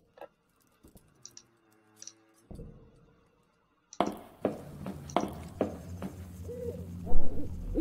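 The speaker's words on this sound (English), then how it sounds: "There's the owl!" An owl hooting in a spooky park-themed video game, a few soft low hoots after sparse ticking clicks, followed by louder clattering game sounds.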